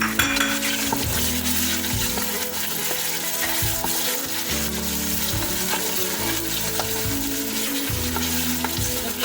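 Chicken frying in a pan for aloo gobhi chicken: a loud, constant close-up sizzle with crackles, under a repeating low rumbling hum and occasional utensil clinks as it is stirred.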